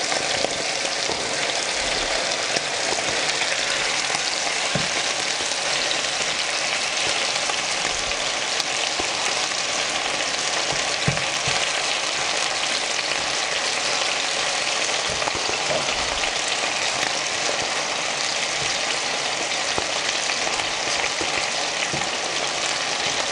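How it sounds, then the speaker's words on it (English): Beef searing in a pan for a Filipino beef kaldereta, a steady, even crackling sizzle that runs throughout with no talking. "Don't fry it completely, you just have to sear it."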